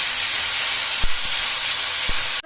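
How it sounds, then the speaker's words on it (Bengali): Garlic fries in a hot pan for bhola fish curry, giving an even, loud sizzling hiss throughout, broken by a few dull spoon taps against the pan. "রসুনটা দিয়ে একটু ভাজা ভাজা করে দেবো।"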